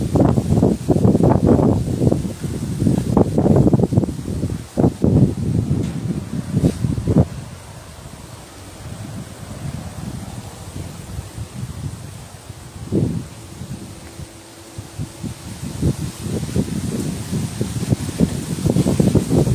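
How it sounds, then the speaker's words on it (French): Stormy wind gusts around a bungalow in Isan, Thailand, in loud rushing bursts that buffet the microphone, easing for a few seconds in the middle before roaring back. "vous entendez surtout le vent."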